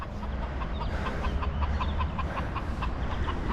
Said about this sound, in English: It's like the cockerels are getting there.